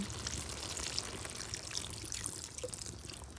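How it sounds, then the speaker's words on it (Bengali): A small amount of water poured into a Bengali bata fish chorchori curry, a faint, soft steady trickle and splash heard close up, with no talking. "এবার দিয়ে দেবো অল্প জল"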